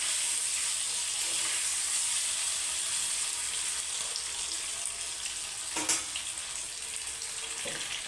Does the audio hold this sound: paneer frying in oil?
yes